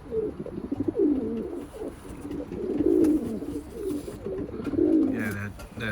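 Pigeons in a loft, including a splash red check, coo steadily in low rolling bursts close by, with soft rustling and occasional higher chirps in the background.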